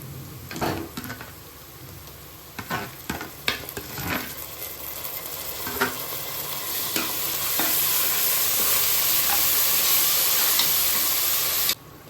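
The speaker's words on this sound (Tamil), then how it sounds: "இப்போ இஞ்சி பூண்டு பேஸ்ட் வந்து போட்டுக்கிறேன்." Ginger garlic paste fries with sautéed onions in a pan for a Karnataka-style mushroom donne biryani. A close, steady sizzle and hiss runs throughout, broken by scraping spatula strokes early on, and the sizzle swells louder toward the end.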